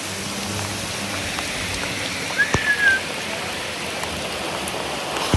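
Heavy rain pours down in a village, a steady hiss of close, dense rainfall with a brief bird-like chirp partway through and no voices.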